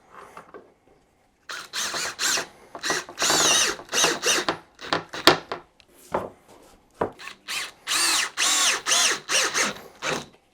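Cordless power drill driving a hex socket while assembling a TORVA outdoor prep dining table, heard as repeated loud whirring bursts of varying length separated by short pauses, close up with no talking.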